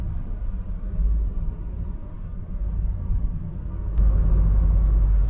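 Inside a 2022 Citroën C3 Aircross cruising calmly at about 70, a low steady road rumble and muted engine hum fill the cabin and swell slightly toward the end, with no talking.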